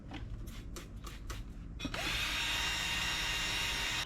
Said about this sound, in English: It's good on the drill because it doesn't spin it too fast.